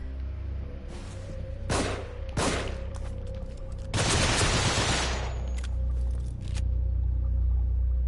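Machine gun fire in The Evil Within video game, a few separate loud bursts followed by a longer sustained volley over a low droning background, close and harsh.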